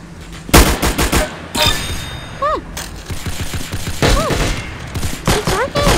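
Roblox-style shooter Arsenal gunfire on a lagging server, with loud rapid bursts and fusillades of shots alongside chirpy game effects, the firing coming in uneven clusters.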